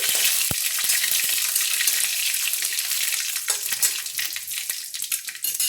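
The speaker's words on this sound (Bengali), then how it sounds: "তো আমি এখন ফোড়নটাকে ভেজে নিচ্ছি" Oil sizzles loudly and steadily in a pan, with sharp pops and crackles of mustard seeds frying as a tempering, heard up close.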